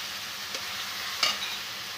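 Small chicken pieces sizzling in a pan with Kashmiri chilli while cooking chicken chow mein at home, a steady broadband frying hiss with a couple of brief stirring clinks, no talk.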